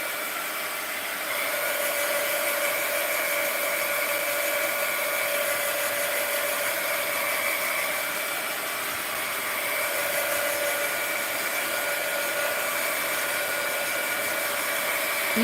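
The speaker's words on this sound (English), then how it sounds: "I'm going to hit it with the heat gun again." A heat gun blows over a mixed-media art journal page, a steady whining fan hum with a high tonal whine that holds for the whole stretch, loud and close, without talk.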